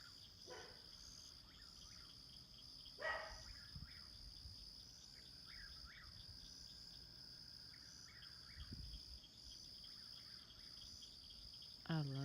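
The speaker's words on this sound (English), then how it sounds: "but can y'all hear the whippoorwills?" Whippoorwills call at night on a summer farm, repeated whistled phrases sounding faint and distant over a steady bed of chirping crickets, with a few soft thumps nearby.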